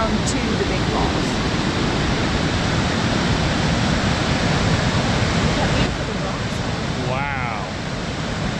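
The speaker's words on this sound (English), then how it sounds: "So this is the gorge cascades that lead down to the big falls." A waterfall cascades through a rocky gorge at Linville Falls on the Blue Ridge Parkway, a loud, dense, unbroken roar of rushing water that fills the whole scene, with a brief voice near the end.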